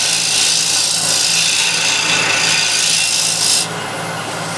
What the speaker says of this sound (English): Scraper.